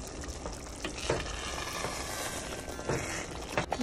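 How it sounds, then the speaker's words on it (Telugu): Tomato pickle cooking in a pan of oil sizzles steadily and bubbles as it is stirred, with a couple of sharp scraping knocks of the spoon against the pan, close and with no talking. "ఇక్కడ ఆయిల్ మొత్తం పైకి వచ్చేసింది ఇప్పుడు ఒకసారి కలిపేసి చూద్దాము"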